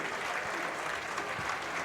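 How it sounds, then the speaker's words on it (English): Baseball crowd at a high school game between the Magnolia Bulldogs and Georgetown Eagles, Georgetown fans on their feet clapping for a pitcher, steady dense applause throughout. "the Georgetown fans on their feet clapping here for Grayson Smith."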